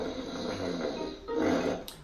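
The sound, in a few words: cartoon pig snoring in Peppa Pig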